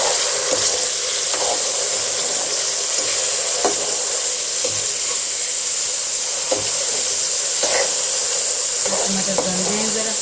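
Peas fry in a hot pan for Chinese biryani, giving a steady, loud sizzle and hiss with occasional stirring scrapes and faint background talk.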